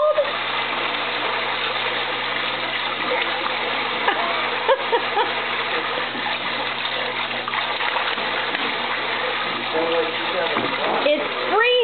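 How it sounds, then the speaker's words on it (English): Cold water runs from a tap into a bath in a continuous, close, splashing gush, with voices talking and a child's sounds over it. "The water coming out there is freezing."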